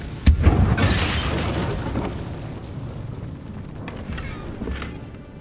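An Incendio fire spell is cast in Hogwarts Legacy, one sharp loud burst followed by a roaring, fading whoosh of flame, then quieter rumbling tail with a couple of faint clicks, no speech.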